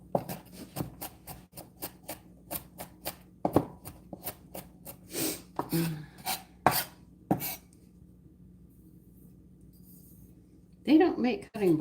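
Garlic is finely minced with a knife on a light cutting board: a fast, steady run of crisp taps that breaks into heavier strokes, then falls quiet before a voice speaks briefly.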